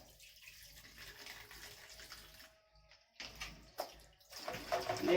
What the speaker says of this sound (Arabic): اغسل ايدي كده